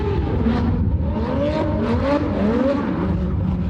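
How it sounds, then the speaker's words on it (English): A loud Porsche GT3 RS engine revs and roars continuously through an R1 Motorsport titanium exhaust, the pitch rising and falling as the throttle is worked, with a raspy exhaust note, fairly close. "Pops my eardrums every time, man. That R1 Motorsport titanium exhaust is nuts."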